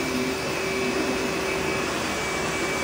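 A carpet cleaning machine brushes and vacuums a floor at the same time, a loud, steady, close whooshing roar with a constant whine and no pauses.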